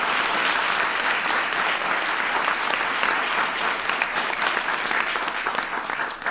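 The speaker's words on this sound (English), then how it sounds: "So give Maya a big round of applause." The crowd at the 2016 White House Science Fair claps for a young presenter, sustained and lively applause from many hands that holds for about six seconds before beginning to taper.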